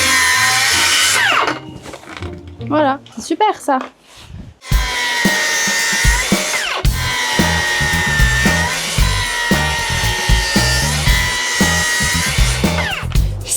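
A power saw whines and bites through solid wood in repeated loud bursts while making cabinet doors, with someone speaking briefly between cuts.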